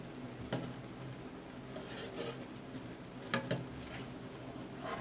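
Sweet milk powder mixture stirred in a pan, soft repeated scraping and light metallic clinks from a spoon, with a couple of sharper taps near the end, close and fairly quiet.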